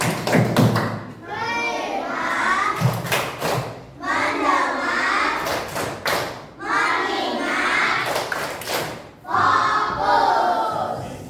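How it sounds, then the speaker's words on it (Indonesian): A classroom group performs the tepuk konsentrasi clapping ice-breaker, with rhythmic claps and loud group chanting in repeated bursts, close and energetic. "Mari kita lakukan ice breaking, yaitu dengan tepuk konsentrasi."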